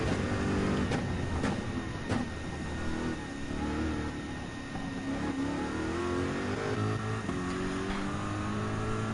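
A race car engine in Gran Turismo 7 revs and accelerates out of the final turn, its pitch rising in steady sweeps with brief shift dips, loud and continuous with no talk.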